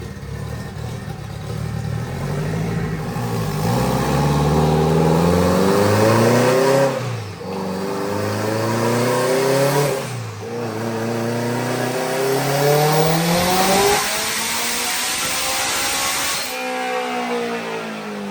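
Sand car with a wet-sump engine and a GT30 turbo revving hard on a dyno, rising and falling in several long pulls with a harsh, loud growl and climbing harmonics, the last pull cutting off sharply, with no talk.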